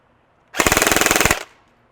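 A KWA Ronin 47 airsoft AEG fires one short full-auto burst of roughly fifteen rapid, evenly spaced shots, loud and close, with a quiet background before and after.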